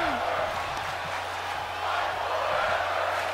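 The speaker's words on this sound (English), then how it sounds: "Crowd is loving this" A virtual wrestling arena crowd in WWE 2K24 roars in a steady, broad cheer under an excited commentator's voice, with a low constant hum beneath the noise.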